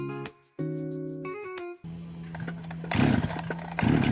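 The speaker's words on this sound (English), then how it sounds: "Operate starter rope to initiate engine startup." A Neotec NH865 or NH872 chainsaw is pull-started with its starter rope. A few short mechanical tones come first, then a loud, steady engine drone that catches and builds into rising bursts, close to the microphone with no voices.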